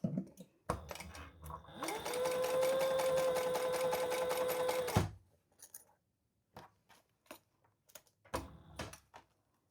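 A sewing machine runs in one steady, whirring burst of about three seconds before stopping. Scattered clicks and light handling taps follow close by.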